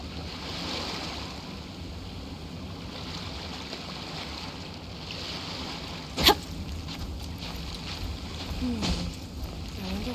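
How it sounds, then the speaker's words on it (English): Calm ocean waves wash softly and continuously in Genshin Impact, with a gentle wind-like hiss, a single sharp splash or click midway, and speech faintly present. "Waves are as calm as always."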